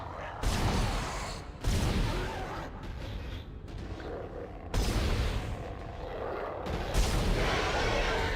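Several heavy shotgun blasts in Dead Space, each a loud booming hit with a lingering roar, spaced a second or two apart over a low ambient rumble.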